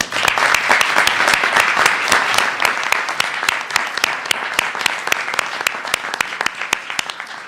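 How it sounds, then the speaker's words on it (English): An audience claps for Pennsylvania Governor Josh Shapiro at a public event on funding for public defenders, producing a sustained, even wave of applause with sharp individual claps standing out near the end. "it's fitting that we take a moment to applaud and thank him"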